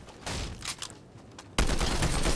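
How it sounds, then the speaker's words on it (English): A combat assault rifle fires in a video game, with scattered shots and then a sudden sustained burst of rapid automatic fire that stays loud and dense to the end. "get some shots on them with the AR"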